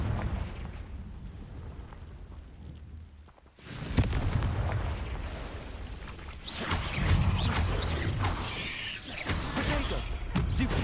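A Confringo blast spell in a video game erupts into a loud, sustained boom after a brief quieter lull, with rumbling, crackling debris and continuing magical effects that keep the clip dense and noisy to the end.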